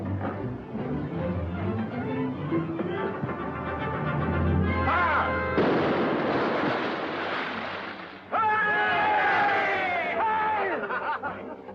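A ship's cannon fires a shot during a naval battle in a 1945 pirate film, a sudden heavy broadband blast bursting over orchestral music, with a second surge of noise following a few seconds later.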